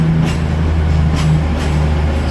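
An ex-East Midlands Meridian class diesel train in Lumo livery at Carlisle station gives a loud, steady engine drone with a low hum, running continuously up close.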